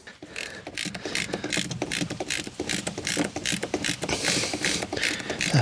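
A ratchet spanner tightens a bolt on a new hinge of a uPVC patio door, giving a steady run of close, fast mechanical clicks in short repeated bursts, with no talking.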